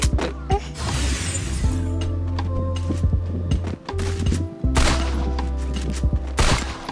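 Gunfire in the Free Fire video game: dense bursts of rapid shots, shattering and thuds over a steady low game drone. No one speaks.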